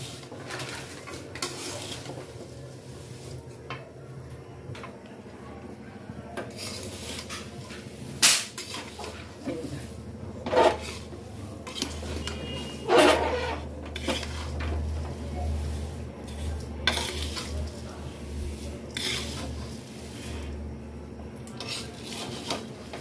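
Poha chivda, made without oil, is stirred with a pinch of salt in a pan, giving repeated scraping, rubbing rustles and occasional metallic knocks from the spoon against the pan over a low steady background.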